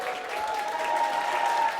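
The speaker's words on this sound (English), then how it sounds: "a room full of health professionals is cheering on colleagues throwing and dropping imaginary balls" A room of health professionals cheering and applauding, a dense steady wash of clapping with scattered cheers throughout.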